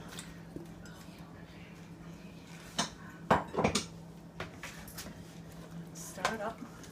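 A spoon stirs vegetable soup with celery leaves and potatoes in a pot, giving scattered metallic clinks and knocks against the pot while a person talks over them.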